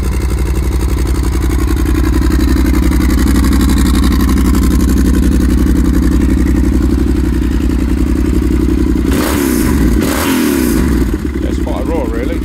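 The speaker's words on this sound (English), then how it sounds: "So it sounds lovely with the exhaust." 2013 Yamaha XT1200Z Super Tenere with a full Arrow exhaust, idling loud and close with a steady deep thumping rumble, with a brief clattery burst near the end.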